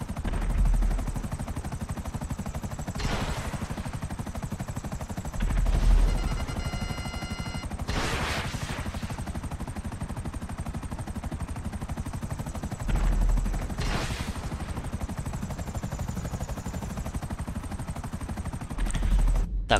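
A helicopter flying in the video game GTA 5, its rotor drone steady throughout, with several loud bursts of gunfire-like impacts breaking through at intervals.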